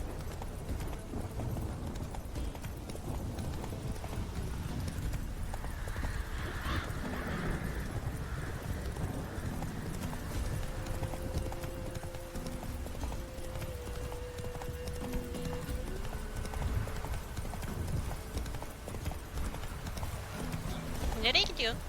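A horse gallops in The Witcher 3: Wild Hunt, its hooves clip-clopping steadily throughout under someone talking, with a brief whinny near the end.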